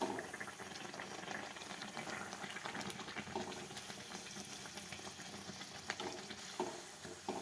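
Buns frying in well-heated oil in a pan for a South Indian Mangalore buns dish, a steady close crackling sizzle with light bubbling running throughout, no talking.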